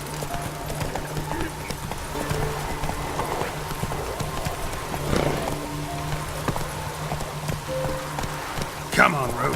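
Horse hooves clip-clop steadily at a gallop in The Witcher 3, with a whinny near the end and background game ambience like rain; someone speaks briefly over the hoofbeats.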